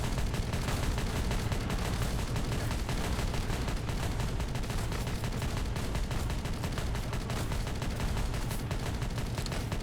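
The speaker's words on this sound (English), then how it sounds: "But damn, there's a lot of shooting." Dense, nonstop gunfire and artillery crackle through a large video game battle in the Valley of Chaos involving the 31st Steel Legion, a loud unbroken wall of overlapping shots and blasts.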